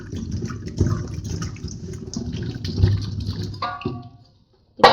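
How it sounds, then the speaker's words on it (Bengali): Small taro (kochu) corms rubbed and swished by hand in a bowl of water, a close, continuous sloshing and churning that stops near the end before a final splash. "এবার গাটি কচুগুলোকে ভালো করে জলে কচলি কচলি ধুয়ে নিতে হবে।"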